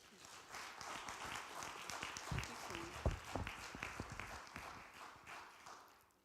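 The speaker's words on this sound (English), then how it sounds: "please give her a round of applause" A crowd applauds, a dense patter of clapping that swells and then fades away, with scattered voices mixed in.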